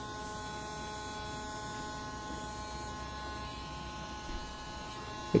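A DJI Phantom 4 Pro drone gives off a steady electric whirring hum with a faint buzz. It runs at an even level, close to the microphone, throughout, with a small click near the end.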